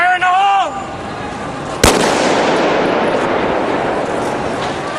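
A blank gun test-fired on the set of the film I Am Legend: after a brief shouted voice, one loud, sharp report cracks out and rolls into a long, fading echo.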